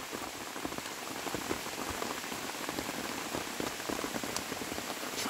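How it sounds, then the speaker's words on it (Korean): Steady rain patters on surfaces throughout at a flat-peach orchard, a dense, even hiss of drops with no speech over it. "빗소리도 많이 나오고."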